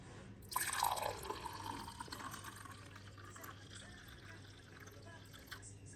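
Homemade green juice poured into a glass, a brief splashing onset settling into a soft, steady trickle of liquid, quiet and close.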